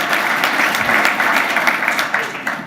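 Steady audience applause at a gathering honoring women of impact, a dense, loud wash of many hands clapping continuously throughout.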